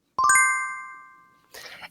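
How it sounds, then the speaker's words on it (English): A bright notification bell ding rings once, a clear metallic chime with a long decaying ring that fades over about a second, followed by a short burst of rustly noise. "Ring that notification bell"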